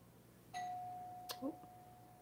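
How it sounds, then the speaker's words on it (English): A household doorbell rings once indoors, a single clear electronic tone that sustains and slowly fades, with a couple of faint thumps near the door and no talking. "There's the doorbell."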